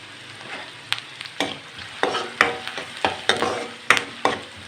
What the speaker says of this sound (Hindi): हमने लाइट फ्राई करना है प्याज को।